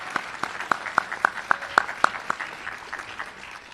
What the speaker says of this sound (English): I want you to go ahead and give them a round of applause right now.